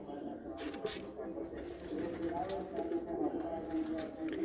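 Breeder pigeons on a rooftop cooing softly in low, repeated murmurs, close by but fairly quiet, with people talking over the birds.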